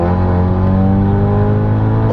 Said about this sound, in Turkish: Uf egzoz sesi de çok güzel.